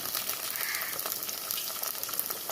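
Onions and curry leaves sautéing in a pan for fish curry, a steady close sizzle with a crackling hiss and no voices.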